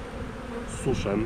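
Honeybees buzz in an old hive, a dense continuous hum close by, while a voice speaks briefly near the end.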